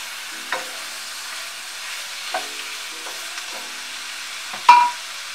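Spring onions, white onions and thyme frying in a pan, a soft steady sizzle broken by several scraping stirs of a utensil, the last one louder and closer.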